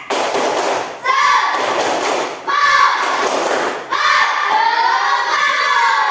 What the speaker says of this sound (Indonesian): Ya, tepuk semangat dulu untuk kalian semua.